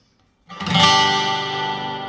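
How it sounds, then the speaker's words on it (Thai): A DK-35S multipurpose amplifier with its reverb set to maximum, heard as a sudden loud, sustained chord that swells and then rings on with a long, washing reverb tail, alone without talk. "เดี๋ยวเราจะลองปรับรีเวิร์บขึ้นสุด"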